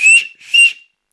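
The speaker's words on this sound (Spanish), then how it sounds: "Señal de sonido, silbato, 3 pitidos." Two sharp, shrill whistle blasts, loud and close with a short gap between, blown as a mountain rescue signal; no voices.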